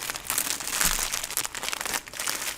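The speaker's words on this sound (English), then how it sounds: "And lots of crinkling." Crinkling of a small plastic yarn subscription pouch being handled, a continuous close, fairly loud rustle with brief quieter gaps, no voices.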